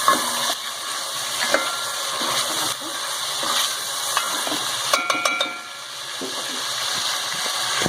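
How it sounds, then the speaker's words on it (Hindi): Chana dal and meat masala roast in a hot pan with a loud, continuous broadband sizzle and hiss, broken by a few sharp clinks and scrapes of stirring, close up. "ये देखिए वो इतनी तेज़ हो रही है। ये इसकी निशानी होती है कि खूब अच्छी तरह से इसकी भुनाई हो रही है"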